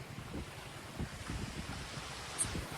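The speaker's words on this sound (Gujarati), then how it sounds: "આ પાછળ જોવા દરિયો એકદમ ફૂલ પાણી વધી ગયું છે" Sea waves wash quietly onto the Alang shore by the ship-breaking yard, a faint, continuous surf with gentle swells and wind rumbling across the microphone.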